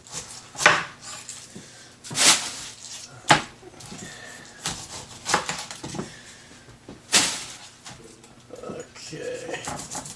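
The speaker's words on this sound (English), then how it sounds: "We're using fresh pineapple for the pineapple fried rice. So we're just going to go ahead and start cutting this." A knife slices into fresh pineapple on a cutting board in a home kitchen, giving several sharp, close cuts and thuds at irregular intervals with some handling noise between them.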